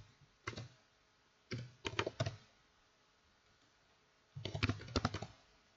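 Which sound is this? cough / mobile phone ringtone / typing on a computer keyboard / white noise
typing on a computer keyboard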